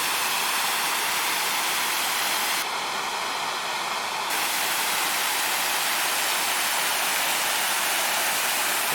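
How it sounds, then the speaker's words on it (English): Steady broadband rush of a waterfall on the Fall Creek Falls trail, heard close and continuous with an even, unbroken roar throughout. "I see this waterfall"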